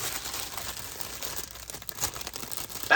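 Resealable plastic baggies holding diamond painting craft supplies crinkle and rustle softly as they are handled up close, in a steady stream of small crackles with a louder crunch at the end.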